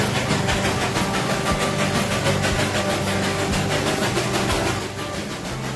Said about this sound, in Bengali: ওই দেখুন আসছে বাঙালি তথা ভারতের গৌরব ওয়ার্ল্ড হেরিটেজ টয় ট্রেন